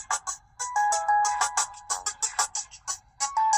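An old Samsung phone ringtone plays a short, bright melodic pattern of repeated electronic notes in quick rhythmic bursts, clear and close with no talk over it.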